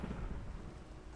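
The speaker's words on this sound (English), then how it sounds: "just before the lightning storm decided to make my day difficult" Thunder from a lightning storm in the Minecraft video game rolls as a low, steady rumble, faint and distant, with no voices over it.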